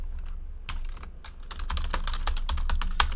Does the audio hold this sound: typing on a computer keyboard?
yes